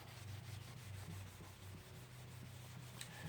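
Abrasive grit is rubbed by hand against a corroded oil pressure switch on a 2007 Jeep Commander to clear oxidation, giving a soft, continuous scratchy scrubbing with a low hum underneath, faint and close.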